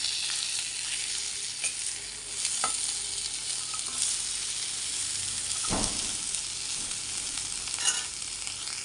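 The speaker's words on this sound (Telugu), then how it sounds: "ఇలా వేగేటప్పుడు కొంచెం కొత్తిమీర కరివేపాకు వేసేసి ఒక అర నిమిషం పాటు వేయించి స్టవ్ ఆఫ్ చేసేద్దాం" Stuffed eggplant frying in a pan with coriander and curry leaves: a strong, close sizzle runs throughout, with occasional scraping stirs and clinks as the pieces are turned.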